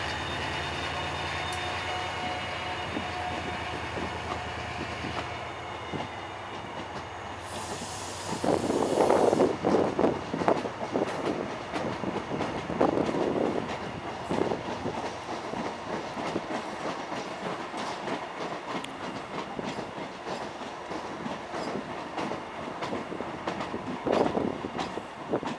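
A TransPennine Class 68 diesel locomotive pulls out of Warrington Bank Quay station, its engine rising to a heavy throbbing roar, with rail clatter and hiss carrying over the busy platform ambience.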